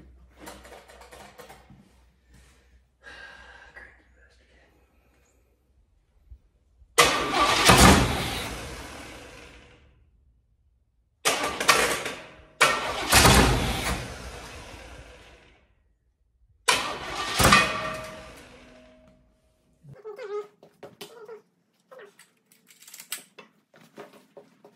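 A small block Chevy V8 with an electric choke cranks in several bursts, catches and revs loudly, then cuts out between attempts, with quiet pauses and faint rattles in between.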